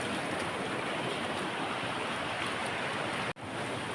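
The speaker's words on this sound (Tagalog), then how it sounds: "Ayan, malaki pang alon oh." Large waves on the shore after a typhoon, a steady loud roar of surf and wind noise that fills the clip and briefly cuts out near the end.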